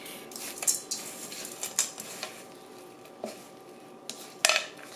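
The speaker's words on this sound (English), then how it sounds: "So I want to like mash the bananas into here" A utensil mashes bananas into oats in a bowl, making a run of irregular light clinks and scrapes against the dish with soft squishy pauses between them.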